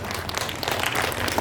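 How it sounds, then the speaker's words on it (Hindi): Steady applause from a crowd at a college NSS farewell event fills the moment, a dense wash of clapping with no voices over it. "इनके लिए एक बार जोरदार तालियां होनी चाहिए।"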